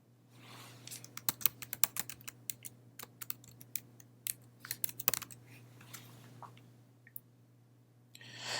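Irregular clicking of keys on a computer keyboard in a quiet room over a steady low hum, the keystrokes coming in uneven clusters with short pauses between.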